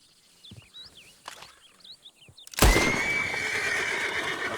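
A horse in Red Dead Redemption 2 whinnies loudly and close after a stretch of quiet birdsong and soft hoof clops, the neigh trailing into a sustained, noisy outdoor ambience.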